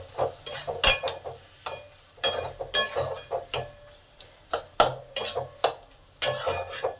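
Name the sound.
stirring and sautéing spices and tomato with ridge gourd peel paste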